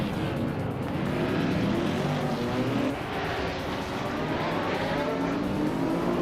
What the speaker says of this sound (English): Lian Yashin and I are nose to tail for the lead